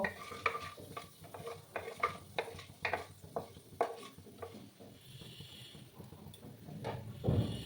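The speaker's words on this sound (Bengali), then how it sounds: "এক চামচের মতো পাঁচফোড়ন দিয়ে দিলাম ভালো করে ফোড়নটাকে ভেজে নিতে হবে" Panch phoron spice mix frying in hot oil in a pan for a potato and bottle gourd leaf dish, with close stirring scrapes and soft sizzling in an uneven rhythm and no talk.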